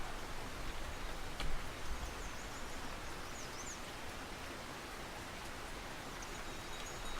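Steady rain in the fishing video game Russian Fishing 4 hisses evenly throughout, a dense, constant wash of drops with faint higher chirps above it and no talk.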